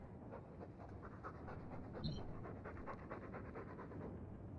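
Heavy, fast dog panting from the companion Fen in the video game Dragon Age II, close and constant with a brief louder breath partway through, no talking.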